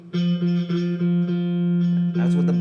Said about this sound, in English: That's what the buzzing sounds like.